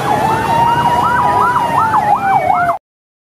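A toy PMI ambulance, red and white, sounds its emergency siren: a loud, close electronic wail sweeping up and down in quick repeated cycles, then cutting off abruptly.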